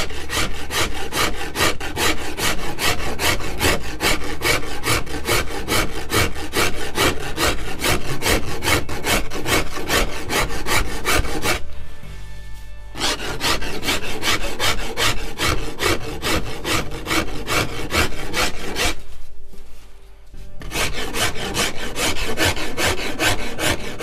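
A rasp or file is drawn steadily over a yew longbow stave, loud rhythmic scraping strokes close up that keep going for long stretches, stopping briefly twice before resuming, with no talk.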